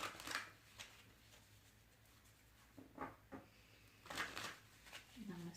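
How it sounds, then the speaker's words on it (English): Tarot cards are shuffled by hand in a quiet room during a spiritual reading, several soft riffling bursts spaced apart with a faint voice near the end. "Just going to shuffle till Spirit directs different"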